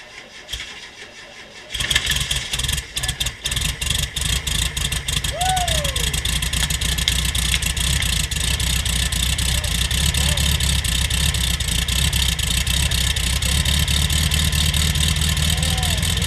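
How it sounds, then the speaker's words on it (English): 1952 MG TD kit car engine cranking and catching after fuel starvation, settling into a loud steady idle with a rapid ticking rhythm, close up, with faint whistling and a few voices underneath. "Once we got the engine running"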